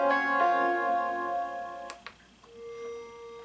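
A Yamaha Reface DX synthesizer plays its Future Bell preset: bright, bell-like tones with sustained harmonic ringing, a few struck notes that decay, then a single held tone, played alone and fairly quiet.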